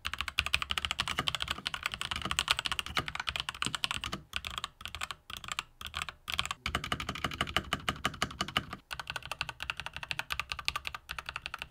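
On a Corsair K70 Core gaming keyboard with pre-lubed MLX Red switches, fast continuous typing makes dense, close clacking. A few brief pauses break the flow midway, and no one speaks.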